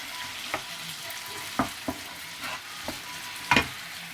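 Chicken fried rice with oyster sauce being stir-fried in a pan, a low sizzle with several sharp scraping clatters of the spatula spaced irregularly, close and fairly quiet.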